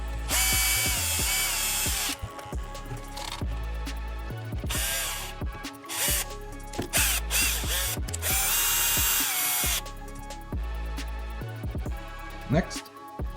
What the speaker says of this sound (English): Insert and then screw inside these M3 screws inside these mounting points.